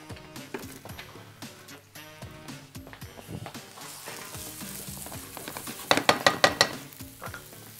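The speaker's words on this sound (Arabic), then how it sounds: "شويه زيت هبدا احط عندي البصل" Chopped onions hit hot oil in a pan, giving a steady sizzle beneath background music, with a louder burst of crackling spatter near the end.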